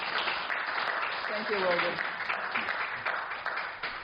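A group audience claps steadily for a first-time speaker, with the applause continuing under a short spoken thanks.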